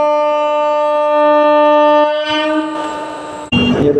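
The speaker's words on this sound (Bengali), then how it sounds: "ট্রেন হর্ন দিয়ে দিয়েছে।" A train horn blares in a long, steady, loud blast among hills, then the sound drops into a rolling rumble of passing cars that ends in a sudden sharp clatter.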